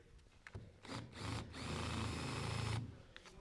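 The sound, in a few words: drill bit countersinking screw holes in ramp material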